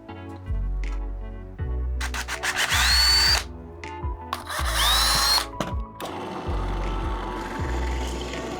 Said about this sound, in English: I'm gonna go ahead and make a pilot hole